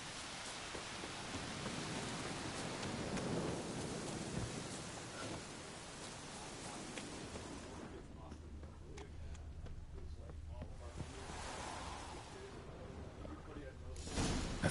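Steady rain hisses in a video game scene, with low rolling thunder rumbling beneath it and the downpour easing and surging in waves; a voice speaks quietly over it.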